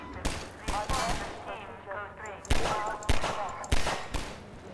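Sharp gunshots ring out in Half-Life 2, several spaced loud cracks in a loose rhythm while someone talks between and over the shots.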